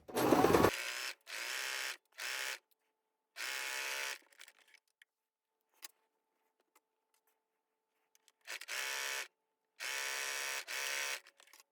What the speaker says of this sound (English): So at our sewing machine, we're going to sew it at 1/4 of an inch.